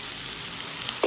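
Cauliflower and potato pieces fry and get stirred in a pan, giving a steady, even sizzle with a single soft utensil tap near the end.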